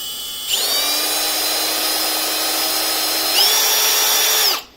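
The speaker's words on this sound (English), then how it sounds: "you can actually control the speed very well, especially when drilling metal" A Milwaukee M18 2902 cordless hammer drill whines at a steady high pitch close by while drilling metal, easing briefly and then rising again before it stops.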